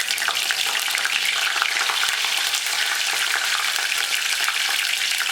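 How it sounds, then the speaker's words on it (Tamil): Fennel seeds, dried red chillies and curry leaves fry in hot oil for a sunnyakkai kara kuzhambu, giving a steady, loud, close crackling sizzle with dense popping throughout and no voices. "சோம்பு பொரிஞ்ச உடனே அதில் கொஞ்சம் மிளகா வத்தல் போட்டு நம்ம எடுத்து வச்சுருக்க மிளகா வத்தல் அதுக்கப்புறம் கருவேப்பிலையும் உள்ளே போட்டுக்கிறோம்"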